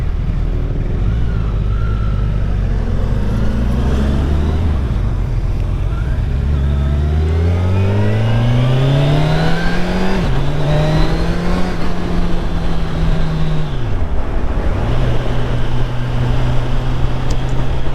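A 2021 Kawasaki Ninja 1000SX, a 1000cc faired sport bike, revs hard while being ridden. The engine climbs through several gears with rising and falling pitch over loud, constant wind roar, close and dominant, with no speech.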